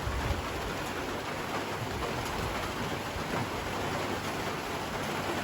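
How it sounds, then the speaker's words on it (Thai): Steady rain pours outdoors on a trip to gather shellfish, an even, continuous hiss at moderate volume with no voices. "ฝนตกก่อน"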